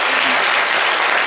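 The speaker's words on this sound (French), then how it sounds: "Applaudissez monsieur Monké, bien fort." Brief burst of dense studio audience applause, loud and steady throughout with a faint voice buried beneath, during a live broadcast with an Ivorian choir ensemble.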